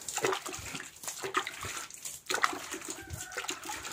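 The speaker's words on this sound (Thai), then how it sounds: "รดน้ำปูนที" Water poured onto a freshly laid cement floor in a garden house, splashing and spattering close by in uneven surges with short gaps.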